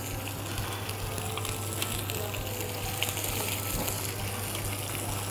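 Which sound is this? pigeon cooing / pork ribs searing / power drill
pork ribs searing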